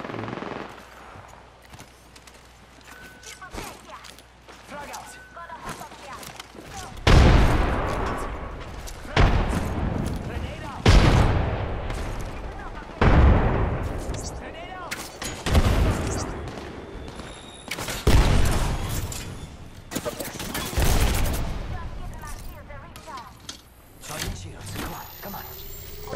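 Video game gunfire: loud sustained bursts of automatic fire and repeated heavy shots in clusters, with lighter background game sounds between volleys.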